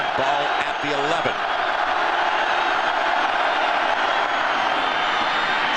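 A college football stadium crowd of 86,000 at Iowa State versus Nebraska roars steadily for the defense, a loud, continuous wall of noise with a brief voice near the start.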